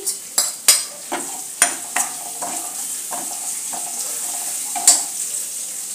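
Chopped green chilli and garlic frying in a pan with a spatula scraping and stirring, a soft continuous sizzle punctuated by about a dozen sharp clinks and scrapes in an uneven rhythm.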